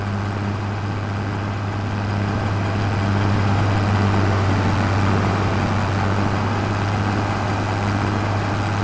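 A car engine runs continuously with a steady low rumble and a constant rattling texture on top, loud and close with no pauses and no voices.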